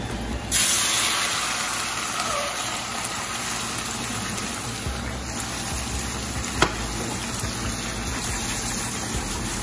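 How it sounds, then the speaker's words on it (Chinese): Pork ribs drop into a hot pan with oil after eggs have been fried, for a Shanghai-style home dish. A loud burst of sizzling starts early and settles into a steady frying hiss, with one sharp pop later on. "接下来我们把排骨放进去"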